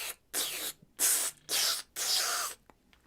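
Spray can hissing in four close, loud bursts of about half a second each, separated by short silences, with no talk over them.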